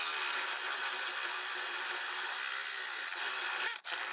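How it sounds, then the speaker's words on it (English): A 23/32 inch spade bit bores holes through pallet wood for a workbench, giving a steady, loud high whine that holds without a break and then cuts out briefly near the end. "23/32 inch spade bit to finish the holes."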